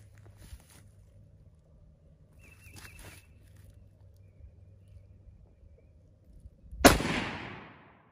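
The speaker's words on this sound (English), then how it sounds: "do the test firing, take my precautions like I always do" An 1895 Chilean Mauser rifle chambered in 7.62x51 fires a single loud, sharp shot near the end, with a decaying echo, after quiet outdoor ambience and a few faint clicks.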